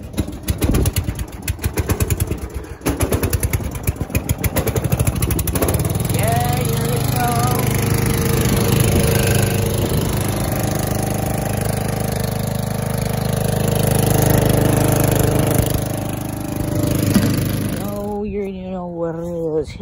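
A small lawn mower engine sputters and chugs, then settles into a loud, steady droning run close by, with a voice briefly audible near the end.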